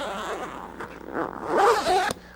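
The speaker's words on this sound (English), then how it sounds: "Now unzip the window completely, starting at the passenger side and moving to the driver's side." A zipper on the rear window of a 1997-2006 Jeep Wrangler soft top is drawn open in one continuous close pull, rasping steadily and growing louder toward the end before stopping abruptly.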